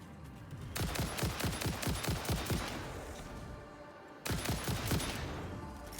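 Rapid automatic gunfire in the Satisfactory video game comes in two loud, close bursts of fast repeated shots, separated by a brief pause, with no talk over it.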